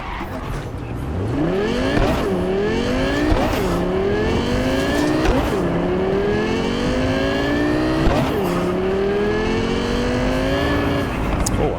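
Car driving in Cyberpunk, the engine revving up through repeated gear shifts with rising pitch, loud and close, with occasional tire squeal.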